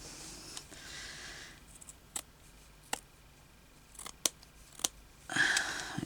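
Scissors cutting fabric for a hand-sewn thimble bag, a few separate, crisp snips spaced out over several seconds, close and fairly quiet, with soft rustling of cloth between the cuts.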